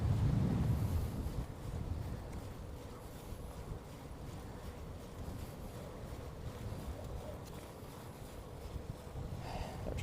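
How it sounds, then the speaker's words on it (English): Steady wind buffets the microphone while cycling outdoors on a bike tour in South Korea, a continuous low rumble with a stronger gust at the start and no voices. "There's the wind."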